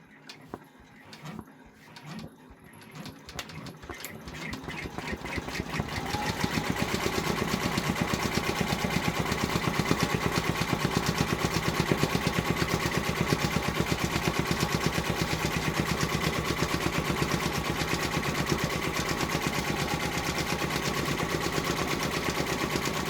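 Embroidery machine stitching a Christmas scene: a few soft clicks and clunks as it starts, then a fast, steady mechanical chatter of rapid needle strokes that carries on unbroken.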